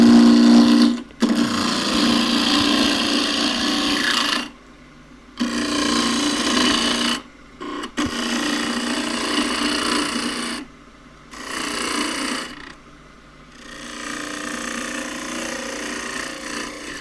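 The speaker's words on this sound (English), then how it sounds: "Start to develop the shape. Do all that from here with the scraper." A scraper cuts a small green elm pot spinning on a wood lathe, giving a steady rasping scrape in long passes broken by several short pauses as the tool lifts away.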